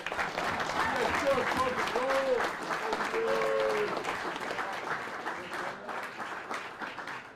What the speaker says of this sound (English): Round of applause for Coach Thome, please.